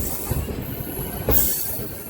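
Train hauled by a WDG 4D diesel locomotive on the Rameshwaram to Tambaram route near the new Pamban bridge, a loud rolling rumble of railcars with a sharp wheel squeal and clatter midway.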